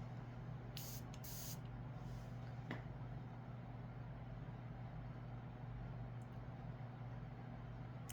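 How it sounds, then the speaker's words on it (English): A bottle of perfume with neroli and bergamot notes sprays in a few short, close hisses near the start, over a steady low background hum. "we're going to spray this one out real quick and see how it does."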